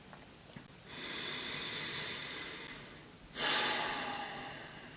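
Slow breathing exercise shifting from wave breathing into belly and nostril breathing: a soft sustained airy inhale, a short gap, then a stronger rushing nasal exhale, close and alone.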